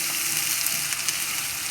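Onion browning in a frying pan with garam masala, cinnamon and cardamom while cooking a chicken roast, giving a steady close sizzle and crackle with no talk.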